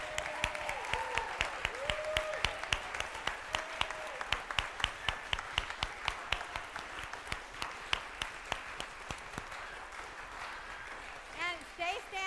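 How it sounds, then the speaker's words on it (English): A church congregation applauds the mothers during a service, with sustained loud clapping filling the room and some voices mixed in. "let us raucously applaud you"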